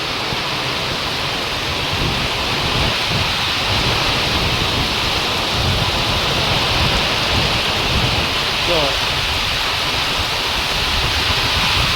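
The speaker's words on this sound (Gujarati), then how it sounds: "પવન બી તેલ્લો છે ને વરસાદ બી તેલ્લો છે" Heavy monsoon rain driven by strong wind, a dense steady hiss pouring down close by for the whole stretch, with a low rumble underneath and no voices.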